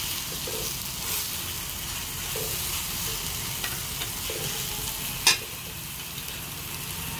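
Pumpkin flowers frying in a pan as a steady close sizzle, with faint stirring scrapes and one sharp clink partway through, and nobody talking.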